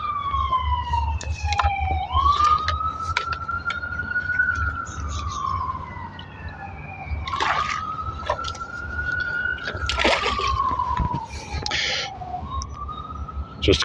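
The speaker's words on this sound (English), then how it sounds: "Just quickly want the sirens to go past" Emergency vehicle sirens wailing as they pass through the area near Assiniboine Park, the tone sweeping up and down repeatedly for over ten seconds at moderate distance, with birdsong and faint outdoor noise underneath.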